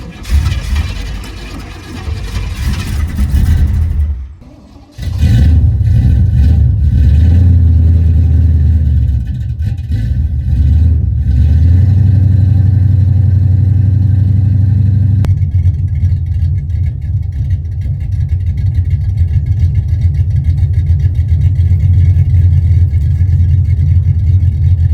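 A 383 V8 Chevrolet El Camino with a TH400 transmission and squatted stance fires up on a 45-degree day after a brief crank, then settles into a loud, deep, steady rumble as it pulls away and drives on.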